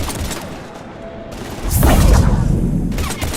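Heavy gunfire during a Mass Effect 3 battle, with dense continuous shooting and rumbling booms that grow louder midway and hold steady to the end.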